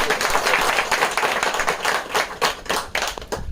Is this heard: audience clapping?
yes